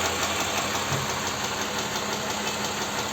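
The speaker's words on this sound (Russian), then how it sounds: "Слышно, с поддона стучит снизу." Engine of a Toyota Highlander U50 with the 2GR-FKS V6 and about 93,000 km, knocking from the oil pan area; a steady idle with a faint repetitive knock, heard close and alone.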